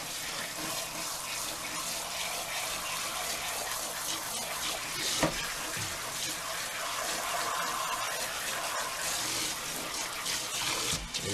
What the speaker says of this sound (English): And then you just go through and rinse all the crud out of it.